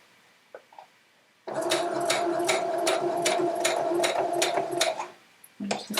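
A sewing machine runs for several seconds, stitching quilt fabric with a rapid, even mechanical rattle up close, stops briefly, then starts again.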